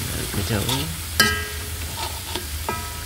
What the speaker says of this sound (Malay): kacau dan terus mengacau